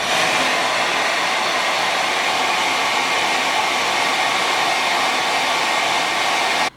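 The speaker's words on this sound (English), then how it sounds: "So I'm gonna turn my blow dryer on to cool and put it on high." A hair dryer blows on its cool setting at high speed, a loud, steady roar close by that runs continuously and then cuts off at the end.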